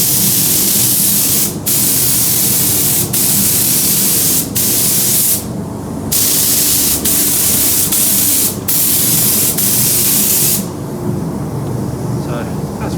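Aerosol spray paint hisses in loud, close bursts onto a Traxxas Maxx RC car shell, with short gaps between passes, and a voice speaks briefly underneath.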